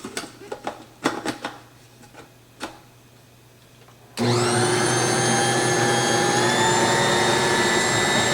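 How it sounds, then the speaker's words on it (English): Several short knocks and clatters come first, then a stand mixer starts with a loud, steady motor whine that holds for the rest of the clip while beating brown sugar for a caramel pound cake. "we're going to put it over here in the mixer"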